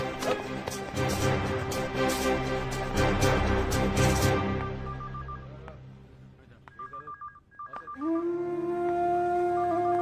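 A telephone is dialed, a quick series of short beeping tones following loud music that fades out, then a steady phone tone holds.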